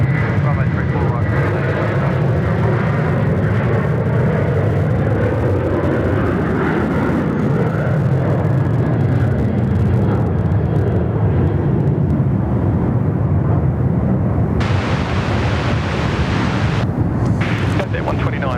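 A Jetstar airliner landing on runway 34 right at Sydney Airport, a loud continuous jet roar with wind buffeting that holds steady throughout, while radio voices talk over it.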